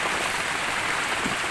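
Rain falling on a job site during installation of a tubular steel structure with yero cladding, a steady, dense wash of hiss with no pauses, fairly loud and close.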